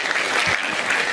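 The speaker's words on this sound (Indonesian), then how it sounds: "kita berikan tepuk tangan" A dense burst of applause from a crowd, steady and full throughout, with no pauses.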